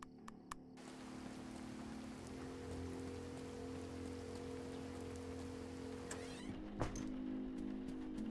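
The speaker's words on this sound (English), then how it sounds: "It's still raining." Steady rain falling, a constant, soft hiss of drops with a low hum underneath and a couple of faint taps near the start and end.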